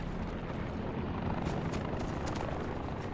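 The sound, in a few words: helicopter in video game Call of Duty Blackout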